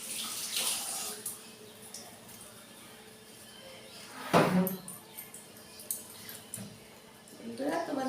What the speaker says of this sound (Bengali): কাঁচা লঙ্কাটা ধুয়ে নেব